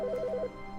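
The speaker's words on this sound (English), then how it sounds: "That was the phone that rang." A telephone rings in the video game The Stanley Parable: a short, fast warbling electronic trill lasting about half a second, fairly quiet, then cut off into a soft background hum.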